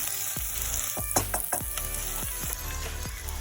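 Onion fries in a pan with a steady close sizzle, broken by several sharp clacks and scrapes of a utensil against the pan.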